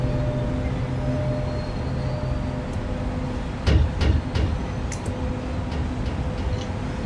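Container freight train from the cab in the SimRail railway simulator, a steady loud rolling rumble on the rails with a brief burst of louder clattering as an oncoming train passes, then the steady run resumes.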